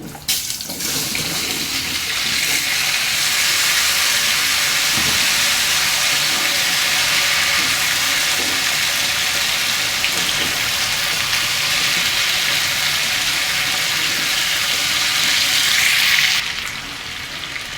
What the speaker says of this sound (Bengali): এখন ভাজবো বেগুন আলু